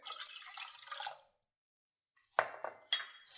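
Water pours into milk in a medium saucepan, a splashing trickle that stops, then resumes with a sharp clatter and splash after a short silence.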